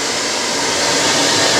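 A blow dryer runs steadily and loudly right at the microphone while drying a dog after its bath, a continuous even roar with no breaks and no voices.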